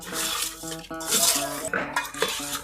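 Fish being mixed with salt, turmeric and lemon in a dish, close clinking and scraping of a spoon against the vessel in quick irregular bursts, with no talking.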